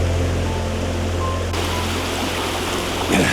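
A river stream in Pirongia Forest Park rushes steadily nearby, a dense continuous wash of flowing water with no voices, holding even throughout with a slight swell at the end.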